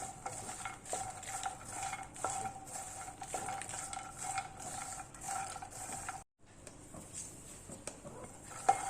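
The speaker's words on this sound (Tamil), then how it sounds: "பட்டர் உருகிடுச்சு நம்ம இப்போ இந்த மக்கானா சேர்த்துக்கலாம் கொஞ்சம் மீடியம் ஃப்ளேம்லேயே வச்சு வருங்க" Makhana (lotus seeds) roasting in melted butter over a medium flame, stirred with a utensil in a pan, producing a soft sizzle under repeated rattling, scraping strokes, briefly pausing before the stirring resumes.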